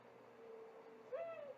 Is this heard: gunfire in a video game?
no